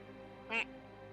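A single short nasal quack voiced by a person imitating a duck, brief and clear over a faint steady background hum.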